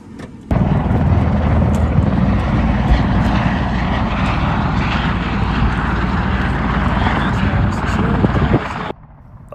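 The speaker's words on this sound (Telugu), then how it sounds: "మనం వచ్చిన హెలికాప్టర్ ఇది, మన హెలికాప్టరు" Helicopter on a Grand Canyon tour landing, a loud, close, steady engine roar with rotor thrum that runs continuously before dropping away abruptly at the end.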